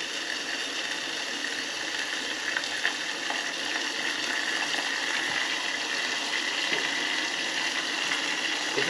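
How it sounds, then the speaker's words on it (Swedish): Steady crackling sizzle of a small entrecôte steak frying in a saucepan, continuous and fairly close, with faint clicks scattered through it and no voices. "Så jag får försöka steka köttbiten i kastrullen istället."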